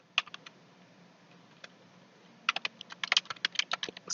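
Typing HTML code on a computer keyboard: a few scattered clicks, a pause, then a quick run of crisp keystrokes close by, with no talk.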